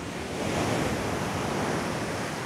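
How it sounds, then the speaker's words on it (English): Large ocean waves crash and roar steadily on a beach in Nagasaki, Japan, a loud, continuous broadband surge with wind buffeting the microphone and no speech. "The waves are crazy."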